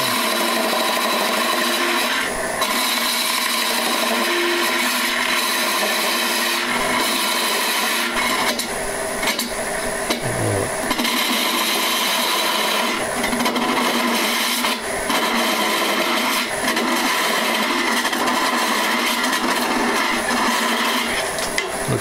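A woodturning tool cuts against a spinning lamp base on a lathe, smoothing roughness left from drilling the hole, a loud continuous scraping rasp with shifting bursts and brief breaks throughout.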